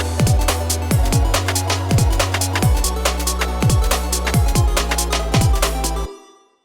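UK bassline track built with a square-wave synth bass: punchy drums with a steady four-on-the-floor kick and bouncing bass notes in a repeating groove, loud and full, stopping abruptly near the end with a short tail.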